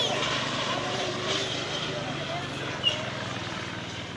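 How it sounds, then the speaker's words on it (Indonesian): A steady engine drone with a low rotor-like rumble from a nearby Indonesian Air Force EC120 Colibri training helicopter, continuous throughout with a brief click partway. "Ini helikopter yang melatih pilot-pilot TNI AU untuk menjadi"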